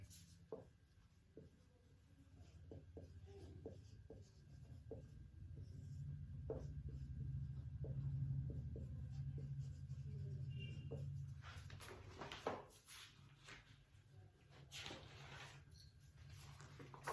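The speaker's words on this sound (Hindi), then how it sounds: "बोर्ड पे ही लिख रहा हूं।" Marker or chalk writing on a board during a physics lecture, faint scratchy strokes and taps in an irregular rhythm under a low steady hum.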